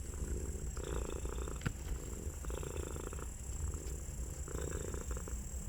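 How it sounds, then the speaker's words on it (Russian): A domestic cat purring while lying on a table in a bathhouse, a soft, steady rhythmic rumble heard close up and quiet, with no talking. "Она не просто лежит, она мурчит."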